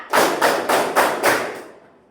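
Five evenly spaced hand claps, loud and close, counted out one after another in a classroom-style activity, with a slight fading tail after the last.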